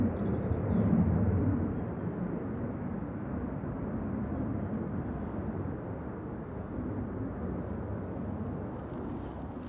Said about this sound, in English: Jet 2 off to Innsbruck, 737-800